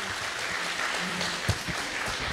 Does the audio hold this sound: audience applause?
yes